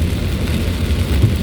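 Heavy typhoon rain without wind drums steadily on a vehicle during a road trip, a dense, loud, unbroken wash with low rumble underneath and no talk.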